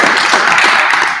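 Dense, loud applause from a crowd, many hands clapping at once with no pauses.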